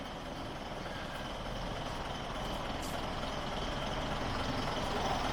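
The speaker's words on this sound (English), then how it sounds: "we just stopped for a moment to listen to that beautiful AEC engine inside" An AEC bus engine idles inside a museum shed, a steady low rumble that holds evenly throughout with no talking.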